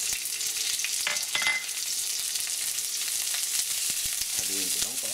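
Chopped onion goes into browning garlic in a hot pan, bringing on a loud, dense sizzle with a few stirring scrapes, close up and continuous.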